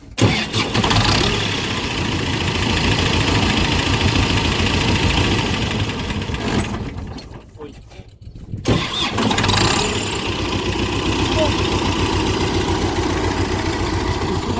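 A farm vehicle's engine cranks and starts with the PTO engaged, then runs loud and close with a steady rumble, dipping briefly midway before picking back up.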